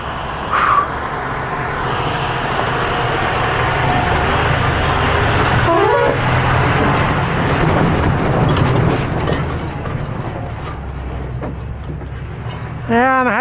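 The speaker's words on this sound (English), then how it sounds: "Look at this big old tanker." A big tanker truck rumbles past on a hill road toward Chandragiri, a loud, broad roar that swells and fades while a horn toots briefly.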